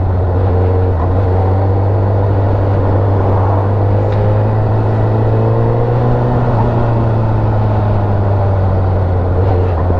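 A 2021 Honda CBR1000RR engine while riding, a loud steady low drone with a strong constant hum and rough wind-like rumble throughout, no speech.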